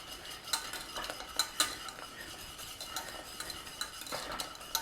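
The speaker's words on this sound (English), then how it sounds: "And give it a stir up." A spoon stirs gravy seasoned with pepper, onion powder and garlic powder in a pan, giving repeated light scraping clinks against the metal in an uneven rhythm, close and fairly clear with no voices.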